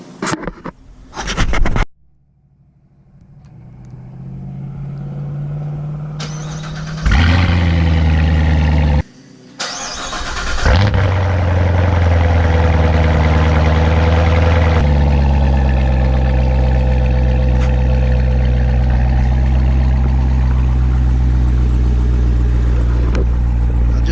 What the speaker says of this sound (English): Hearing that car start up is just freaking awesome.